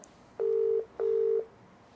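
Two steady electronic tones ring out for a phone call, each lasting about half a second with a short gap between, clear and alone against a quiet background.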